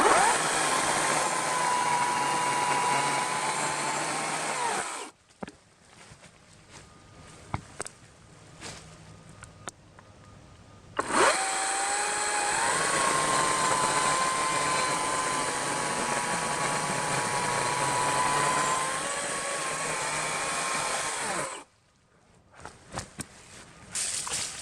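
A RYOBI 40V 20-inch electric chainsaw cuts into a tree outdoors, a loud steady high whine that changes pitch under load, stops for several seconds of quiet footsteps, then runs again.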